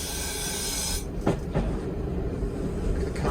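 Former London Underground heritage train running into Corfe Castle station, a low rumbling roll with faint hiss and a few clanks of wheels over joints, fairly quiet and steady with no talk.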